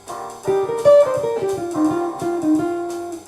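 A clean electric jazz guitar plays a short pentatonic lick of single notes, moving stepwise downward and then settling, with no voices.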